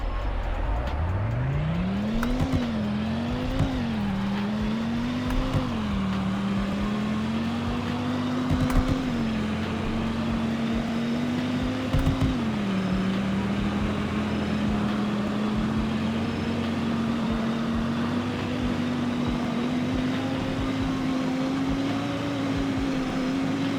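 A Dodge supercar in Roblox Greenville launches at full throttle, its engine note climbing steeply, then rising through several gear shifts into a long, steady high-speed drone, loud and alone without talk.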